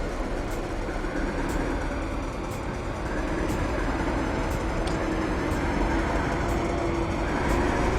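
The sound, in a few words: Class 73 locomotive diesel engine running in Train Simulator 2016 video game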